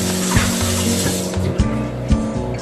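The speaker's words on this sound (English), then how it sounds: "let me rinse my hands" Hands are rinsed under a running tap with a steady close spray of water, while a low mechanical hum drones underneath and a few soft knocks break in partway through.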